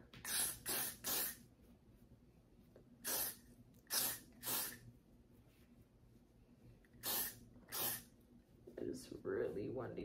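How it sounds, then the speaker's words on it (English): A spray bottle spritzes onto hair locs in short bursts, mostly in pairs and triples separated by pauses, a sharp close hiss under a quiet room. "So I'm just gonna spray it."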